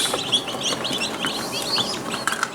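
Newly hatched chicks peep over and over in high, rapid chirps at close range. The peeping is steady and busy and carries on through the whole stretch.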